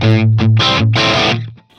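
An electric guitar runs through a Hotone Ampero II multi-effects unit with a Greenback cabinet impulse response, giving a short loud phrase of distorted, sustained notes and chords that fades out at the end.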